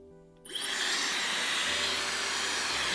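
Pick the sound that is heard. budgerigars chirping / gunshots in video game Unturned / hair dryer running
hair dryer running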